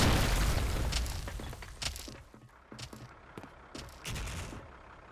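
Explosions in the Special Force online shooter game: a heavy opening blast rolls off, followed by scattered sharp cracks and booms at irregular intervals, fairly close and loud, with no talk.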